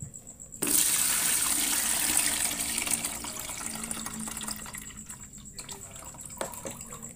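Homemade boba tapioca pearls are strained through a sieve while water pours over them, giving a steady, fairly close splashing rush that sets in after a brief quieter start and runs on without talk.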